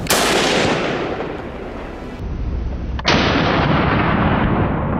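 Loud rifle shots fired at a wild boar in brushy farmland, a booming report with long decaying rumble, then a second sharp shot about three seconds later, close and dominant.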